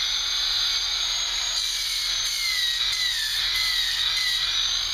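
A polishing pad spins on natural stone to work out a blade mark and hit the top and bottom bevels, giving a steady, loud high-pitched whine with a faint hiss that holds throughout, with no talking.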